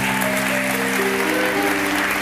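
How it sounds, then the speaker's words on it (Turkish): Studio audience on a Turkish TV talk show applauds steadily over upbeat show music, with a dense, even wash of clapping and no speech. "Alkışlar gelsin kardeşimize."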